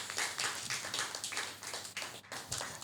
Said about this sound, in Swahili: Alafu wapigie makofi waliojibu.